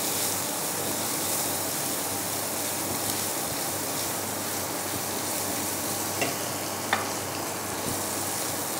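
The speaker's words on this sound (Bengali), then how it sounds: "হালকা ভেজে নেব।" Dried red chillies frying lightly in oil in a pan for a Bengali mashed pointed gourd dish, a steady soft sizzle running throughout with a couple of faint clicks, no talking.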